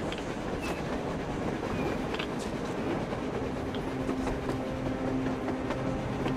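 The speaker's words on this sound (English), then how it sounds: "A train!" A train rolls past on the surface in the Metro Exodus video game, a steady heavy rumble with clacking wheels and faint metallic squeals, continuous and loud with no talking.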